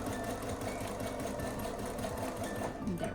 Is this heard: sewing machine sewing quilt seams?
yes